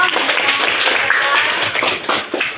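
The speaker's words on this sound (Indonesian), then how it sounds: "Kasih aplaus dong." An audience at an Indonesian school coaching session gives a short burst of applause. Dense, close clapping fills the space throughout, with a few murmured voices mixed in.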